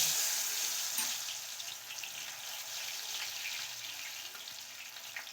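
Dalmoth batter dropped through a slotted ladle into hot oil for homemade Bengali dalmut fries with a dense, steady crackling sizzle, close and continuous, with no talking.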